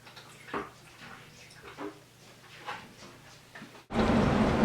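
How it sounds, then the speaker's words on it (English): Water from a thawed water line gushes steadily and loudly once the pump comes on, a sudden broadband rush that follows several seconds of quieter dripping and handling sounds. "after turning the pump on, I got flowing water"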